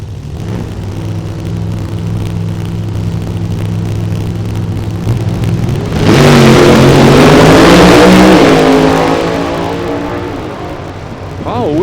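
A Corvette drag car with a Brad Anderson supercharged Hemi roars down the track at a race event, a loud swelling engine howl rising in pitch midway through under a background engine drone, with crowd ambience.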